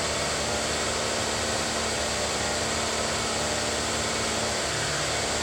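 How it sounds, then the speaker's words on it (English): A car engine held steady at about 2,000 RPM, running stoichiometric, gives a constant, fairly loud broadband drone with no speech and no change in pitch. "that's the engine running stoichiometric"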